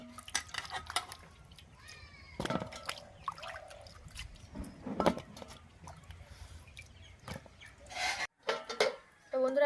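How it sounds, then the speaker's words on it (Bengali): Peeled ash gourd pieces being washed by hand in water in a home kitchen, with scattered splashes, clinks of a bowl and irregular sloshing bursts, close and fairly quiet. "এবার আমি ভালো করে ধুয়ে নেব।"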